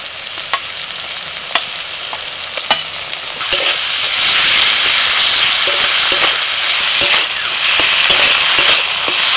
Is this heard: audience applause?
no